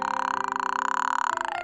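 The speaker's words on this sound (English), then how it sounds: "I don't even know how to burp on command, but it's just happening." A sustained, buzzing burp from a streamer during a spooky game, close and steady with a rough pulsing texture, its pitch dipping slightly near the end.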